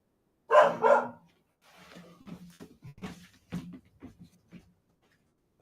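A dog barks twice in a loud, close burst, then gives a string of quieter, scattered yips and scuffling sounds in an otherwise quiet room.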